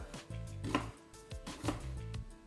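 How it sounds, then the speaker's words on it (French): Vegetables for ratatouille being finely chopped with a knife on a board: quick rhythmic clusters of close, crisp taps in two bursts, no voices. "Ça veut dire que je coupe des tout petits bouts."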